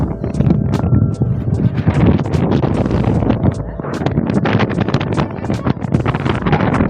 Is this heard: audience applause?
no